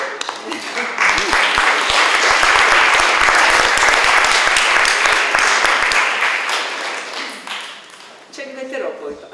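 Theatre audience applauding, a loud full burst of clapping that swells, holds for several seconds, then tapers off before a voice speaks at the end.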